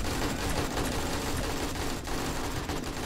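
Dense, continuous rattling gunfire in 7 Days to Die (Alpha 20, Darkness Falls mod) fills the whole stretch, steady and busy with no pauses.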